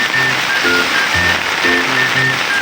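Steady rain falls outside over a flooded backyard in heavy weather, a constant broadband hiss with low, faint background voices or tones in the distance; no one speaks up close.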